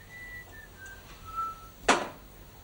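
A man whistles in a few soft, wavering tones, thin and sustained, with a louder sharp burst near the end in a quiet indoor scene.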